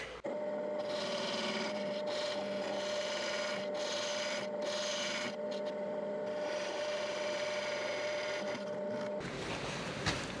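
Woodturning tool scraping a wooden potpourri box spinning on a lathe, a steady rubbing, rasping cut with a constant motor tone underneath and brief pauses, close and moderately loud.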